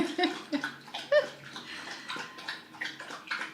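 A dog drinks water greedily and loudly, with close, rhythmic wet lapping and sloshing in quick repeated bursts, and a brief faint voice heard near the start.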